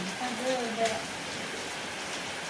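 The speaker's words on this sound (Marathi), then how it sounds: "पावसाचा आवाज लावायचं" Steady rain falling throughout, a continuous hiss with a few faint voices and tonal sounds early on.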